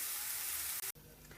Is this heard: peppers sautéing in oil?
yes